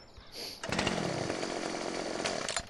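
A chainsaw in the video game Farming Simulator 17 starts with a short buzz and then revs into a loud, continuous rasping drone that holds steady before cutting off near the end.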